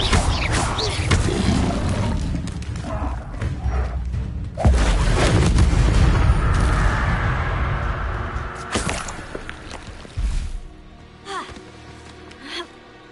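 A Confringo fire-blast spell explodes in Hogwarts Legacy on PS5, a loud booming burst with whooshing magic and crashing impacts over dense game sound, followed by a quieter tail of scattered effects.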